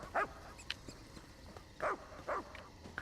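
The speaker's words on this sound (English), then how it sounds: "Dog." A dog in Elder Scrolls Online: Summerset gives several short sharp barks with gaps between them, moderately close over quiet game ambience.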